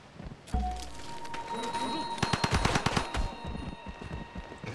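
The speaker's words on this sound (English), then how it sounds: "give me that Gatling gun. We'll start by attacking these rifles." A Gatling gun fires on rifle units in Civilization 5, opening with a sharp blast and then a rapid burst of rattling shots around the middle, followed by fading echoes.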